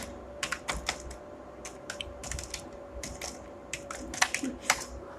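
Typing on a computer keyboard to enter a web address, with irregular bursts of crisp, close key clicks and short pauses between runs of keystrokes, steady and moderately loud with no talking.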